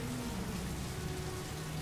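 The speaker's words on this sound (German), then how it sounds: "Und es regnet wie immer, immer noch in Strömen" Steady, heavy rain pours without a break in the video game Heavy Rain. It forms a dense, continuous wash of noise with no voices over it.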